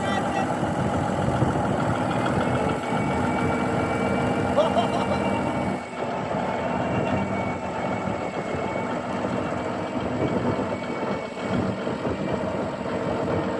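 A rare Steiger tractor engine runs at a steady mid-pitched drone, close and continuous, with a slight dip partway through and a person talking over it.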